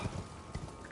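Hooves of the spectral steed Torrent in the video game Elden Ring, a few quick clip-clop beats close by over a steady game soundscape.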